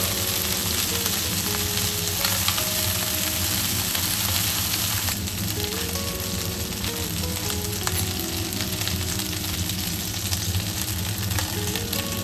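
Chicken wings frying in a covered pan over medium heat, a loud, steady, close sizzle that continues evenly without a break, with no talking.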